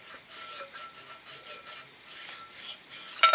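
A cast iron piston sliding back and forth in the bore of an antique Essex Stirling hot air engine cylinder, giving close, soft rasping scrapes in an uneven rhythm, with a sharper scrape at the end.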